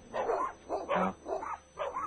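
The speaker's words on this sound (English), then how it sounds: "Sounds like he got several dogs there." Several dogs bark in a loose series of five or so bursts, heard over a phone line during a prank call to an animal shelter about a lost dog; moderately loud with no talk over them.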